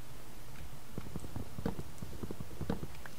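Horse hooves clip-clop in the Minecraft video game, a quick series of light, hollow knocks at a walking pace, soft and close against a steady background hiss.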